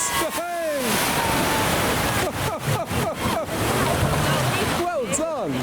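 A police car ploughs through deep flood water, sending up a sustained rushing splash and sloshing wash, while excited onlookers nearby shout and cheer over it.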